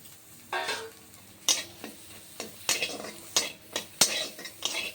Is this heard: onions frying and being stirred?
yes